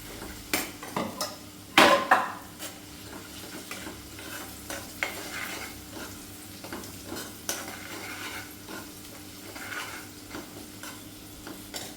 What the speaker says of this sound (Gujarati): એ ડુંગળી જરાક કલર થયે એટલે એમાં પછી લસણની આદુનો પેસ્ટ એ નાખી દેવાનું.